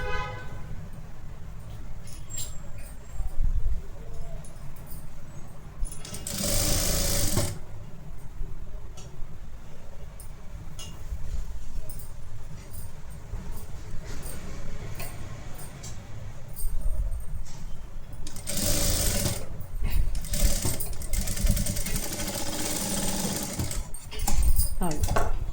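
Sewing machine stitching a half collar, running in short bursts with quiet gaps between, loudest near the start and again toward the end, with a voice talking over parts of it.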